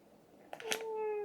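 A pet cat in a couple's home gives a single drawn-out meow, rising then sliding down and holding steady, close and clear over quiet room tone.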